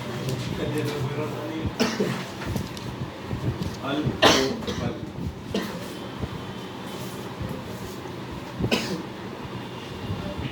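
Several sharp coughs break out at intervals over people talking and a low, rumbling background.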